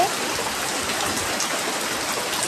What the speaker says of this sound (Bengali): দেখো, খুবই বৃষ্টি হচ্ছে কালকে রাত থেকে আমাদের এদিকে, আর হাওয়াও হচ্ছে